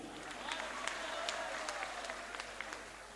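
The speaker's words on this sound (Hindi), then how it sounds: "एक मर्तबा थोड़ा ताली बजा दीजिए" An audience at a poetry recital (mushaira) in Bhiwandi claps in a loose, scattered burst of applause, sharp individual claps standing out against a faint, distant crowd murmur.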